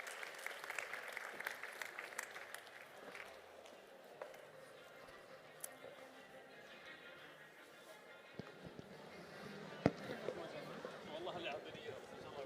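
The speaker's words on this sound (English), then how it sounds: "Give them a warm round of applause." An audience at Urban Future Week in the Museum of the Future, Dubai, claps in a faint, sustained round of applause heard from a distance, with scattered louder claps.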